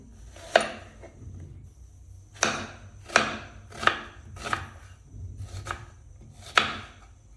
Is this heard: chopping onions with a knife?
yes